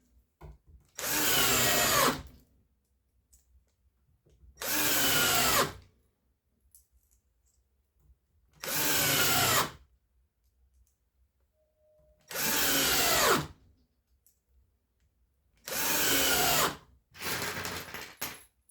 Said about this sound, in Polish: Przecież to jest malutka wkrętarka.